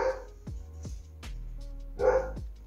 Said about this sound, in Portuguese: Hoje, os cachorros não querem deixar eu gravar